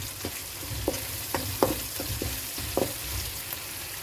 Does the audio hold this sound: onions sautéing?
yes